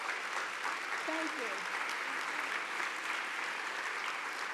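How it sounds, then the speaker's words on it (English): An audience at a women's celebration breakfast applauds steadily in a large room, a dense, sustained patter of clapping with a brief voice heard over it. "I want to applaud them because I hope you'll join me."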